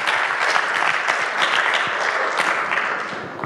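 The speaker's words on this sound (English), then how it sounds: "Please give them a round of applause." An audience at a high school learning event gives a round of applause, a dense, fairly loud burst of many hands clapping that continues steadily for several seconds before tapering off.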